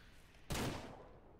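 A single loud rifle shot fired at a deer while hunting in the Ranch Simulator video game, a sudden sharp crack that trails off in a decaying echo.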